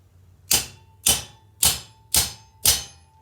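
Five evenly spaced, sharp metallic hammer strikes on a rivet set drive a buck rivet into copper sheet, each crack ringing briefly and close by, with no talk.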